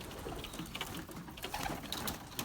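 Belgian racing pigeons coo and call outside their loft, a dense, continuous flock murmur with overlapping soft calls and faint higher chirps, steady and moderately close.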